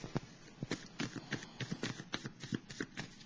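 Tarot cards are shuffled and handled to draw a card, giving quick, soft, rhythmic riffling and slapping taps close by, steady for a few seconds at low volume.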